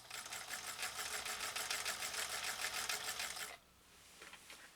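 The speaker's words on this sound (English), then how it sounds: "for him to sew compressed felt that easily, wow" A Singer Featherweight 222K sewing machine stitches through compressed felt in a fast, even mechanical chatter up close. The stitching then stops abruptly, leaving a faint whir and a small clunk afterward.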